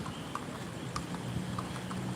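A horse walks along a road, its hooves clip-clopping in a steady, fairly quiet rhythm of hollow knocks, heard alone without talk.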